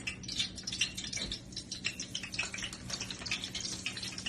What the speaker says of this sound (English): you can take a little sprinkle of water just to see if it bubbles